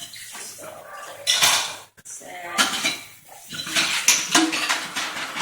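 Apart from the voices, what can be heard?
hand washing dishes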